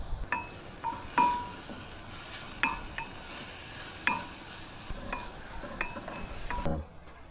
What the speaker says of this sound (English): Just going to brown these onions